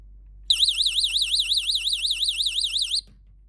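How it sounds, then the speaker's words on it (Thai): A cheap burglar alarm for doors, windows and drawers wails alone in a fast, warbling up-and-down siren tone, loud and steady for a few seconds before cutting off abruptly. "สัญญาณเตือนสำหรับการขโมยนะ"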